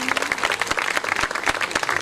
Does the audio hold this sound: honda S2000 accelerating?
no